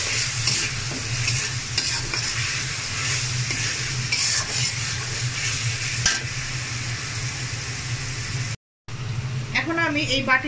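Five or six slit green chillies frying in a pan for a katla fish and winter vegetable curry, a constant sizzle with a low steady hum and scattered stirring clicks, a brief gap, then a voice speaks at the end.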